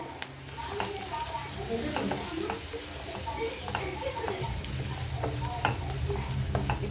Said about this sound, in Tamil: இதில் கொஞ்சமாக மிளகா பொடி கொஞ்சமாக மல்லிப்பொடி போட்டுக்கலாம் போட்டு இதை நல்லா வதக்கிடலாம்